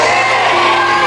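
A church congregation shouts together during a sermon, a loud, dense, sustained crowd roar that fills the whole moment.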